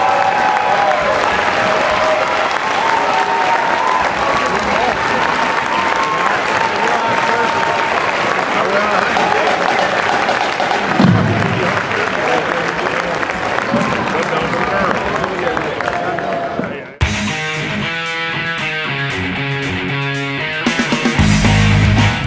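Crowd applause at a high school boys basketball game honoring senior basketball players and cheerleaders, a dense sustained wash of clapping filling the gym, briefly dipping before a loud burst of music or noise takes over near the end.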